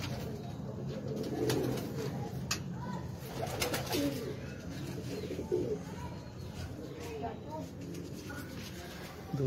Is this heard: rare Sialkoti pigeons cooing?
yes